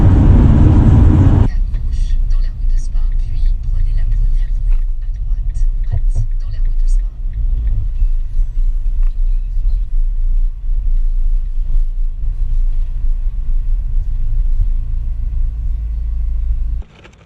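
Camper van cruising at 90 km/h on an open road in the Ardennes, with a steady low engine and road rumble throughout. A loud burst opens the clip and the sound drops away sharply at the very end.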